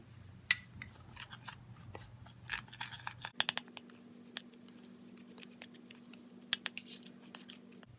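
Red lentil powder and yogurt are stirred into a face paste in a small bowl, with intermittent scraping and tapping of a utensil against the bowl over a low steady hum.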